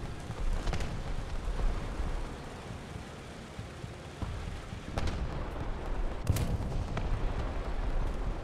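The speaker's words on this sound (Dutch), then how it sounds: "Artillerie." Artillery fire in the War Thunder tank game: several distant, muffled booms and sharp cracks over a constant low engine rumble, fairly faint and with no talk.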